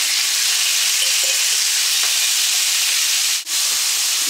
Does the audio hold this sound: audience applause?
no